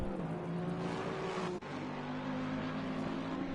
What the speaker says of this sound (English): Oh, we've got cars everywhere.